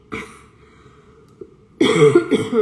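A short cough near the start, then a pause and a pair of harsher, louder coughs in quick succession at the end.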